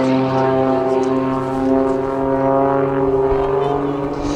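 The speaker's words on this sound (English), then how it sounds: "trying to control the pitch of the propeller, the thrust from the petrol engine and the thrust from the jet engines" A Pitts S-2S aerobatic biplane fitted with a petrol engine driving a propeller plus jet engines gives a loud, sustained droning engine tone with strong steady harmonics, slightly wavering in pitch as it holds power at an air show.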